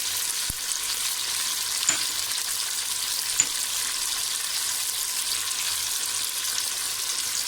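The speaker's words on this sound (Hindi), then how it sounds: "ये डाल के हम थोड़ा सा इसको फ्राई कर लेंगे" Garlic, tomato, ground red chili, turmeric, salt and green chilies frying in a pan for a turnip, radish and spinach sabzi, giving a steady close sizzle with a couple of soft stirring knocks.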